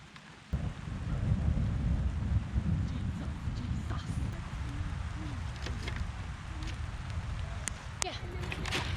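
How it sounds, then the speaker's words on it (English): Rain falls steadily with low rumbling thunder as a severe thunderstorm approaches over a garden near a zoo, a sharp onset after a quiet start, then continuous patter and scattered distant sharp sounds. "Probably because there's a severe thunderstorm coming."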